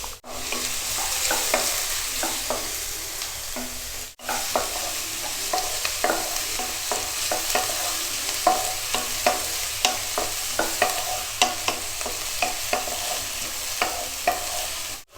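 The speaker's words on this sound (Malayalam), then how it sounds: "എണ്ണ ചൂടായി കഴിയുമ്പോൾ ഇതിലേക്ക് ചെറുതായിട്ട് അരിഞ്ഞു വച്ചിരിക്കുന്ന സവോള ചേർത്ത് കൊടുക്കാം." Finely chopped onion frying in hot oil for kothu chapathi, a continuous sizzle with repeated sharp spatula scrapes and taps, a brief break near the start, no talking.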